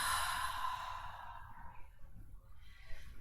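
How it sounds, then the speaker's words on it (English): A slow, deep belly exhale during a gentle yin yang yoga session: a soft, breathy release that starts fairly strong and gradually fades, heard alone. "So breathing in just into the belly and exhaling."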